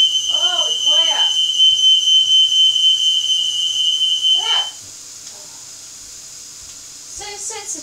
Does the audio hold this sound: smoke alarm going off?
yes